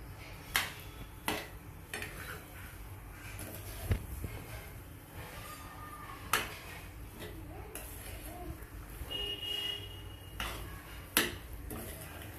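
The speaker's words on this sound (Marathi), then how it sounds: "आता त्यात साखर ऍड करू आणि ती हलवून घेऊया" A spoon stirs sugar into milk in a kitchen pan, giving faint, sparse metallic clinks and scrapes over a low steady background hum.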